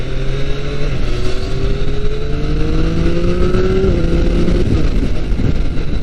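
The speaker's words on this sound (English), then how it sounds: "This motorcycle is incredible in terms of acceleration and control." A motorcycle engine revving hard up through the gears on Japan's Route 465, rising whines stepping in pitch, loud and close over heavy wind rush.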